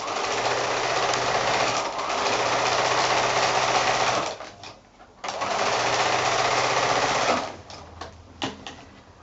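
A sewing machine runs fast, quilting straight lines through an appliqué quilt-as-you-go block, in two long, steady bursts separated by a short pause, followed by a few brief stitching spurts.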